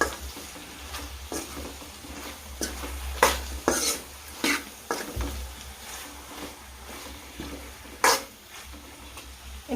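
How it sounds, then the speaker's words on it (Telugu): Vegetables with chili powder being stirred in a pan for sambar, soft sizzling under repeated spoon scrapes and clinks against the pot, close and irregular, no talk. "ఒకసారి మొత్తం కలుపుకొని"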